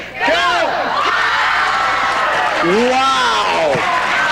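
Studio audience cheering and clapping after a countdown on a television talk show, with whoops and shouted voices rising over a dense bed of applause.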